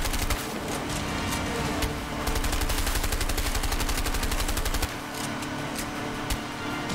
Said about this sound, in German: ich schieße ja nicht auf dich, ich schieße nur auf die Engine